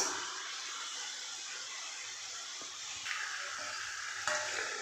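Sliced kaara thukkada snack pieces frying in hot oil give a steady, close, bubbling sizzle throughout, with a couple of brief clinks and a slight swell near the end.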